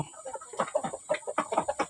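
Chickens cluck in quick, repeated bursts close by as they are fed corn, a busy flurry of short calls with a faint steady whine in the background.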